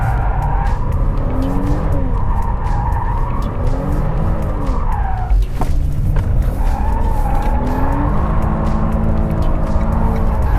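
A powerful Hyundai car drifts on a wet test track in Korea, its engine revving in rising and falling sweeps while tires squeal and hiss continuously, loud and close from inside the car.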